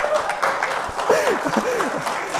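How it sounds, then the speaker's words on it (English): Audience clapping during a student ministry sermon, a steady dense patter heard throughout while voices call out and talk over it. "that is not the one you should be clapping at"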